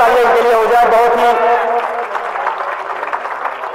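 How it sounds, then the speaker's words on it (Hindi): An audience at a mushaira breaks into loud, dense applause that sweeps over the hall at full volume and then gradually thins while a speaker talks over it. "जोरदार तालियों के लिए हो जाए।"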